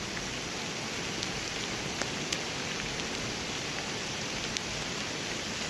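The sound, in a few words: rain falling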